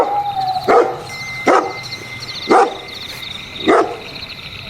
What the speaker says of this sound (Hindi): कहीं दूर से कुत्तों के भौंकने की आवाज आ रही थी